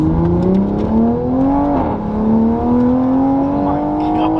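Modified Toyota Supra engine revving after a cold start, a loud close rasping roar that climbs and dips in pitch through several throttle blips.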